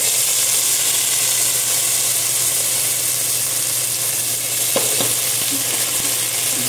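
Mung beans and potatoes being sautéed in a pan, a loud, constant frying sizzle with a low steady hum beneath and a few brief scraping knocks of a utensil near the end.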